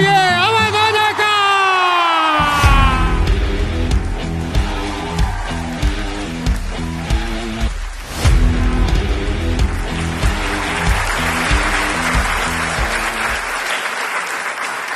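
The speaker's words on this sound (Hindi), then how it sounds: "जोरदार तालियों से स्वागत करिए अवध ओझा का" A crowd applauds to welcome education figure Avadh Ojha on stage, loud steady clapping rising over a fading musical fanfare and continuing strongly to the end.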